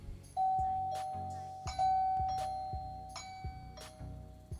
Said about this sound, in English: hub is ringing